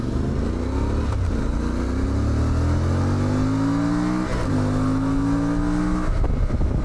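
A CFMoto 450MT motorcycle engine revving hard on a winding track in Morocco, the loud close engine note climbing steadily through the gears, dipping briefly at each shift and rising again, with no voices.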